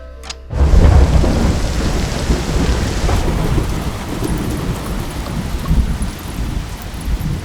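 Heavy rain pours steadily with thunder rolling through it, a dense continuous roar that opens with a loud crack and then settles into a constant downpour.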